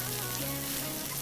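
Mustard seeds, green chili pieces, chopped onion and curry leaves frying in hot oil, a dense continuous sizzle heard close and fairly loud.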